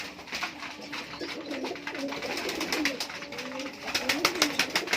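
High-flying pigeons coo close by, overlapping soft throaty calls that repeat and grow louder toward the end, alongside fluttery scratchy movement.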